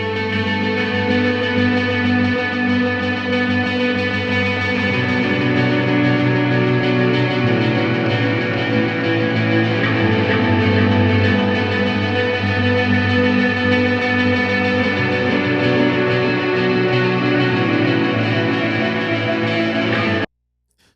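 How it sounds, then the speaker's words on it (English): Electric guitar tracks played through effects, with echo and reverb tails and some grit, ringing steadily and loud for about twenty seconds with no voices, then cutting off abruptly. "these guitars were recorded with effects, so you just got to deal with it"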